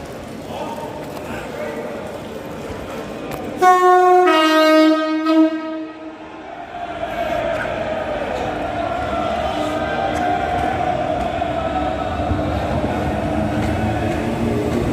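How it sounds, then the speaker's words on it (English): Diesel train 31938 pulls away from platform 2 at Preston station, bound for Liverpool Lime Street: a loud two-tone horn blast, then a steady engine rumble building under station ambience. "31938 leaving platform 2 at Preston for Liverpool Lime Street."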